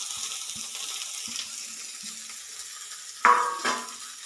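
Spinach is dropped into a hot pan of popping mustard seeds, giving a soft background sizzle with a few light taps and then a sudden louder burst of frying hiss near the end, close and without speech.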